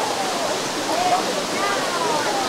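Steady rushing roar of the Sticky Waterfalls near Chiang Mai, Thailand, water pouring over rock in a constant loud wash close by, with faint voices mixed in.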